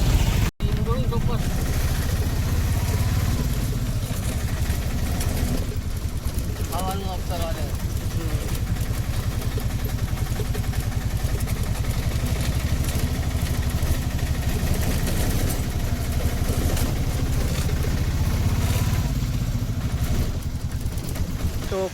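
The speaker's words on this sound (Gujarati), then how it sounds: "જો રિક્ષાઓ અને કેટલી બધા આવે છે" Auto rickshaws and other vehicles arrive at the entrance gate of Datar Hill, with a continuous close engine drone and puttering motors throughout while people talk over it.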